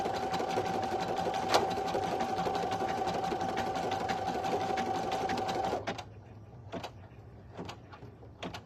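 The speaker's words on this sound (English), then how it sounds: "I know I have my machine set to low stitching speed, but that's a little much." A single needle embroidery machine stitching on a premade item at low speed, a steady close mechanical whir with a constant tone and rapid needle rhythm that runs loud for almost six seconds, then stops, leaving a few faint clicks.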